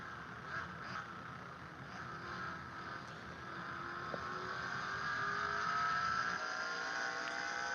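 A race car's engine in a GT racing game roars steadily around Sebring International Raceway, the droning pitch climbing as it accelerates toward turn one and growing gradually louder, with no talk over it.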